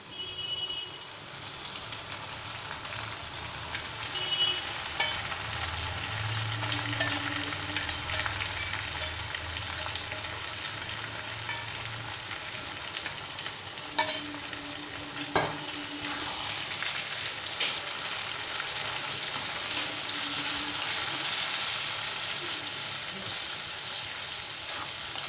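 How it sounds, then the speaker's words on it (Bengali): Marinated mutton fries in a pan with onions already fried golden, giving a continuous steady sizzle with occasional stirring scrapes and a few clinks, close up and with no talk. "এবার এর ভেতরে ম্যারিনেটেড মাটনটা দিয়ে দেবো।"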